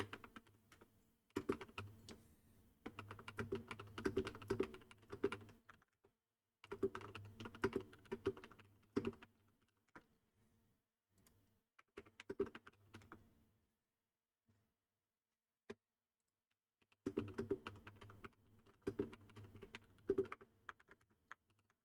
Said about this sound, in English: Sorry, I am typing